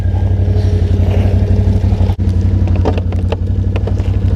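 A Can-Am Outlander XT 650 ATV engine runs steadily in snow, a loud, constant low throbbing drone with a brief dip partway through, heard alone.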